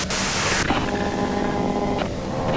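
A device in the video game Disco Elysium gives off harsh, loud broadband static that abruptly thins into a steadier hiss with faint humming tones underneath.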